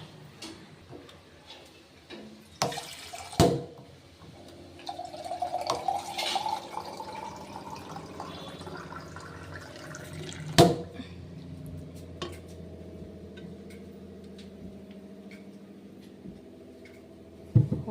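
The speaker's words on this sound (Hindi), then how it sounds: "तो जल भी भर लेती हूँ एक लोटे में।" Water poured into a lota, a small metal vessel, while preparing for an evening puja at home, giving a soft liquid trickle with light metallic clinks and a couple of sharp knocks, close and fairly quiet.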